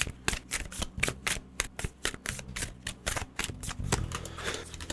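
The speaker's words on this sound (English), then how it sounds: "I must not have shuffled very well." Tarot cards are shuffled by hand in quick bursts of crisp riffling and slapping, close and clear, with short pauses between the flurries and no voice.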